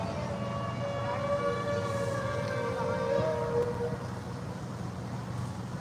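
A long, steady shofar blast with a wavering pitch holds for several seconds before fading, heard at a distance over a background murmur at an outdoor protest gathering.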